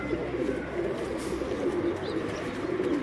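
A pigeon of the old 35 breed coos on a rooftop in Islamabad, low soft rolling coos repeating steadily over a constant background hum.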